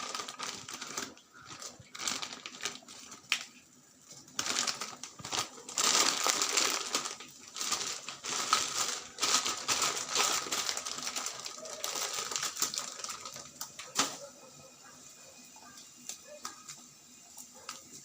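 Mustard seeds splutter and pop in hot oil while tempering sambar, a rapid irregular crackle of sharp ticks that swells loudly then thins out, with no talk over it.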